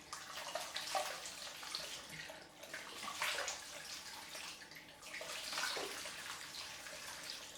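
After a head shave, water splashes and runs as the scalp is washed off, a steady close-up rushing of water with uneven surges and sloshes.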